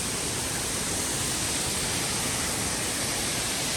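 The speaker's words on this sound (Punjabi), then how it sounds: "ਆਪਾਂ ਨੂੰ ਆਇਆ ਅੱਜ ਦਾ ਪਹਿਲਾ ਝਰਨਾ ਦੇਖਣ ਦੇ ਲਈ ਬਹੁਤ ਹੀ ਸੋਹਣਾ ਝਰਨਾ" A waterfall in dense forest on the route from Tharali to Bageshwar gives a steady, loud, unbroken roar of rushing water that fills the whole stretch without a break.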